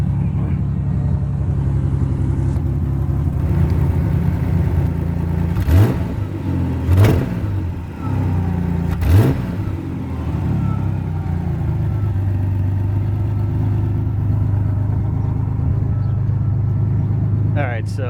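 A Pontiac Fiero GT engine idles steadily and close, with a few brief revs partway through, continuing as a constant low hum with a voice speaking over it.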